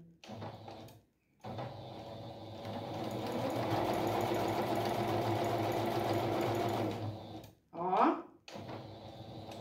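A sewing machine stitches a patchwork rug, a close, steady mechanical whir running for about six seconds after a short burst, with handling noises of fabric and the machine around it.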